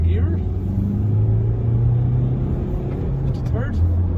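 A 2017 Honda CR-V SE Plus diesel pulling uphill from first gear on a wet road, a steady low engine drone and tyre rumble heard from inside the cabin, rising then dipping as it shifts, with someone talking over it.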